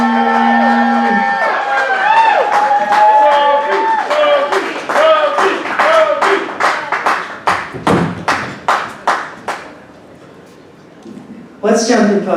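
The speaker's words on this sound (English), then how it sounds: "And keep that thunderous applause going for your next poet up to the mic" Audience at a poetry slam claps for the next poet, a dense burst of applause with whoops that thins into scattered individual claps before a fresh burst at the end.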